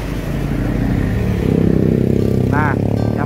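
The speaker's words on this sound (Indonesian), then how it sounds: "Maaf, kembali knalpot nggak sopan lewat." A loud motorcycle exhaust roars close by as it passes, with a rising rev, over steady traffic and a voice in the background, near a toll road bridge in Indonesia.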